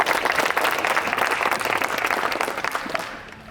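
An audience of young people claps loudly for a young man at a village youth discussion in Chhindgarh, dense steady applause that fades out over the final half second.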